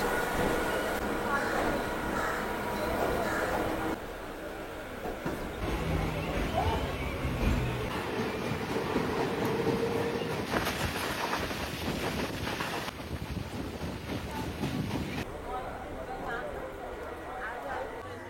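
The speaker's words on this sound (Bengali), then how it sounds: "ছেড়ে দিল আমাদের ট্রেন পুরো রাইট টাইমে 8টা 5।" A Canning local commuter train rumbles steadily along the line, with a continuous roar and wind noise and a thin high whine in the middle, while people talk throughout.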